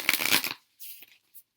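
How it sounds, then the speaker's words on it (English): A quick riffle of tarot cards being shuffled, a short papery flutter, followed by a few faint soft taps and slides. "Shuffle again."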